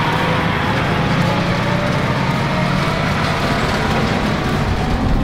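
Truck rumbling steadily through a maize field at harvest, loud and continuous with a broad low engine drone and no pauses.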